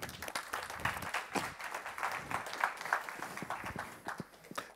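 An audience at a Swedish panel event on future jobs and education gives a short round of applause as a speaker is welcomed onto the stage, with scattered, moderately faint claps that come and go for a few seconds.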